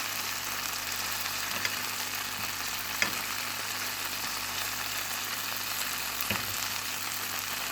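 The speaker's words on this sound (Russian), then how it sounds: "Наш бекон уже поджаривается." Bacon fries under a lid in a covered pan, a constant dense sizzle with a few faint pops and clicks, steady and unbroken throughout.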